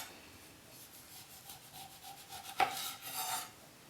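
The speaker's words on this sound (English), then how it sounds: "cut the skin off in small strips, all the way down to its flesh" A sharp knife slicing skin off a Cara Cara orange in strips, quiet close scraping strokes, then a louder crisp cut and a short rasp near the end, with no talking.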